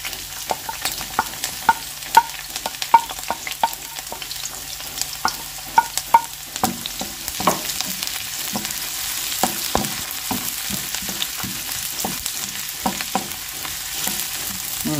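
Onion and garlic sauté in an oil-filled pan with steady sizzling and repeated scrapes and clicks of a stirring spoon, close and alone with no talk.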